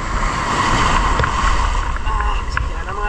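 Rough sea at high tide during lobster fishing, a broad wash of waves and wind noise with choppy surges, close and loud, with talking over it.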